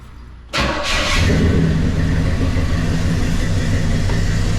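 A cold Chevelle engine fires up after a near-silent start, then settles into a loud, rumbling run with a throttle blip. The sound stays close and steady for the rest of the stretch, with no talking.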